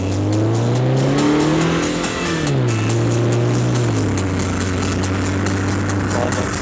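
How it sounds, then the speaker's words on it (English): A 2007 Toyota Camry with a Vibrant custom exhaust gives off a loud, deep exhaust drone that rises and falls as the engine revs, then settles into a steady rumble, with no talking. "This is the Vibrant Custom exhaust, what it sounds like."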